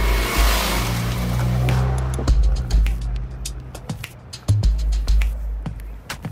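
A 2019 Chevrolet Blazer built by a university EcoCAR team drives past with a steady low engine rumble and road noise, loud and close, broken by sharp ticks and clicks.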